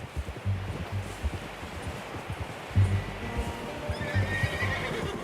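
A horse in the open-world western game Red Dead Redemption 2 whinnies loudly several times among hoof clops and rustling, close and clear, with no voices.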